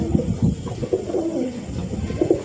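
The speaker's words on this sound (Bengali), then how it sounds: "দেখো মাদিও ডাকছে, নরও ডাকছে, আন্ধ্রা পায়রা এইটাই খাসিয়াত।" Male and female Andhra pigeons coo close by in soft, repeated, throaty bursts that overlap one another.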